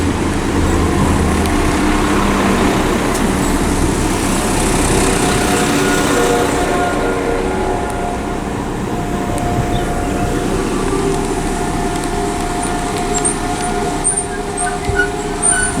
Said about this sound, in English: arriving now is a 1337 service to Whitlock's End for West Midlands Railway